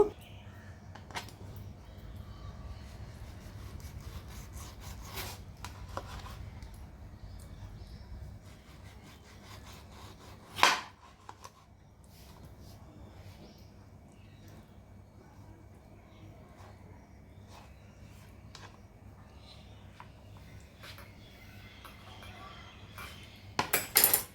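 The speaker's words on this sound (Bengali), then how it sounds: "এবার আমটা কেটে নেব" A washed mango is sliced with a kitchen knife, giving soft, quiet scraping and cutting noises with one sharper click midway, close and faint, with no talking.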